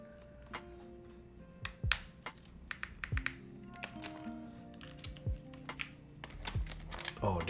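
Fingers type on a mechanical keyboard with galaxy-pattern ABS keycaps, cream legends and a silver case, making a quick irregular run of sharp, close clacks with short pauses, faint voices in the background.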